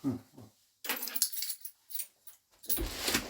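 Keys jangling in short metallic bursts, a few separate shakes and rattles close by at fairly low volume, with a dog faintly present.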